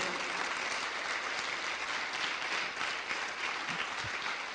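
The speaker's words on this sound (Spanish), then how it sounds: "Dale un aplauso a la palabra del Señor," Steady, even applause from a church congregation fills the room, a dense wash of clapping held at a constant level throughout.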